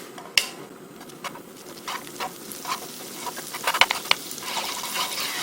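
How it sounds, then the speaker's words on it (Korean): Butter melts in a pan over a gas stove, giving a steady soft sizzle and crackle with scattered small pops and faint stirring clicks, close up with no voices. "그래서 버터를 녹여줍니다."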